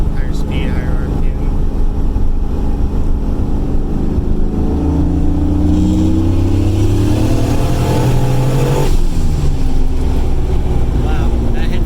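A turbocharged car with its boost turned up accelerates hard at higher speed and RPM, its loud engine drone rising steadily in pitch through the gears, heard from inside the cabin.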